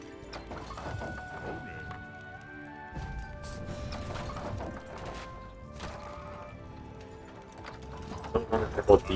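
Horses clip-clop and gallop in the video game Age of Empires DE, mixed with clashing impacts and game music, moderately loud with a voice talking over the top.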